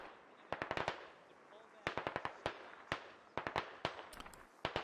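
Gunfire in the military shooter game Squad: bursts of automatic and single rifle shots crack in quick clusters against a steady background rumble, some close and sharp, others more distant.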